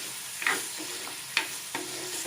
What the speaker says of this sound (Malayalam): ഇളക്കി കൊടുക്കുന്നുണ്ട്.